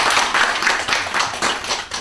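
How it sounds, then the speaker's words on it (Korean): An audience at a Buddhist college gathering claps steadily and continuously. The dense applause is fairly loud throughout and carries no voices. "또 큰 박수도"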